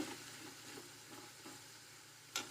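Gentle frying sizzle of urad dal and chana dal in a pan, with soft stirring scrapes and a brief louder crackle near the end, close and fairly quiet.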